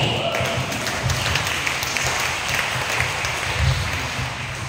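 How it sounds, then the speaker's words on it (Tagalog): Congregation at a church service in Muntinlupa City applauds in a continuous, dense wash of clapping, loud and sustained with a few heavier thumps mixed in. "Grabe po yung palakpak mo."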